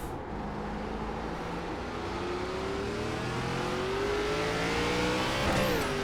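An ARCA Menards Series race car in iRacing at Circuit Gilles Villeneuve, its engine note climbing steadily under a constant drone, then dipping and rising sharply as the driver downshifts near the end, loud and continuous with no talk.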